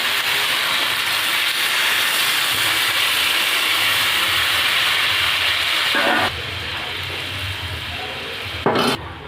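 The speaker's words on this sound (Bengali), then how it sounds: "এবার জল দিয়ে দেবো" Steady loud hiss and sizzle of water poured into a hot pan of frying fish, a Bengali home cooking of fish with bottle gourd, continuous for about six seconds before dropping to a quieter simmer with a brief clatter near the end.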